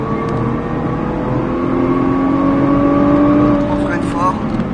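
A car accelerating smoothly and progressively in fourth gear, its engine drone steady and continuous, gradually rising in pitch and intensity throughout.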